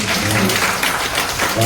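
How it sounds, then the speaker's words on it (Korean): Audience applause at a Korean poetry and history class event, a steady wash of clapping with murmuring voices mixed in, over a low hum, lasting briefly. "뜨거운 박수 부탁드리겠습니다"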